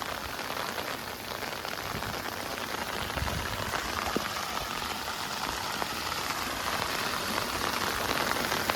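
Heavy rain pours steadily onto a farm pond, a dense, continuous hiss of drops striking water with scattered louder splashes, constant and close throughout with no voices.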